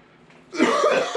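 A single sharp, harsh cough bursts out after a moment of near silence, close and loud.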